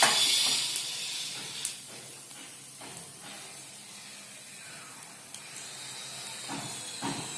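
Cumin and turmeric dropped into a pan of hot oil while cooking a simple brinjal sabzi with green chillies: a strong, close hiss that fades slowly, with a few faint clicks and no speech.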